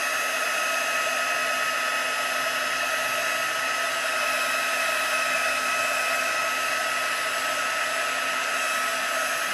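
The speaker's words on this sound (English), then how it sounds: "Just put the heat on there and finish getting it melted and all shiny." A heat tool blows a steady, loud whooshing hum, held without pause while it melts embossing powder to a shine on a silver anniversary card.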